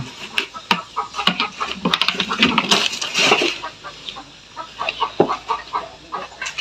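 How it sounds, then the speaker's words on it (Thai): Chickens cluck repeatedly at close range in a farmyard, with a rooster among them, the short, scattered calls overlapping in an irregular rhythm over a busy background. "ไก่"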